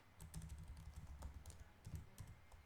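Fast typing on a jumpy computer keyboard, a steady stream of soft, close key clicks in irregular bursts, with no voices.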